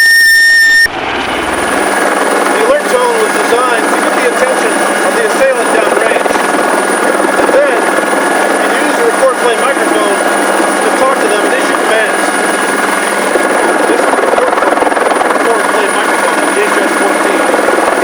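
Loud, steady helicopter noise recorded from close by, with a dense continuous rotor and engine roar and a high whining tone that persist unbroken after a brief start, with no pause throughout.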